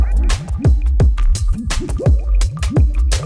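Deep synth sub bass in a funky pattern, each note swooping up and down in pitch, with clicky percussive hits on top.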